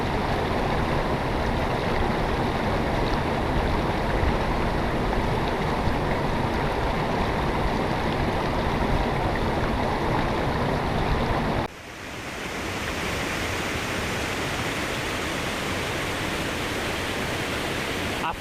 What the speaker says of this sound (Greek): Ακριβώς εδώ στα 5 μέτρα είναι ο καταράκτης,